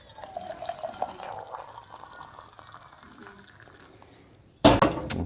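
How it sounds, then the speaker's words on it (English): Boiling-hot water from a Rancilio Silvia espresso machine poured into a kettle for pour-over coffee, a sudden loud gushing splash near the end after quieter bubbling and gurgling. "I'm just gonna transfer to my kettle."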